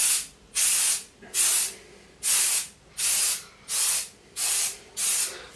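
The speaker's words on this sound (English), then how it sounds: "having sprayed Mole with compressed air" Compressed air is sprayed over a collectible figure in seven short, loud, evenly spaced bursts of hissing, each about half a second long with brief pauses between, close to the listener.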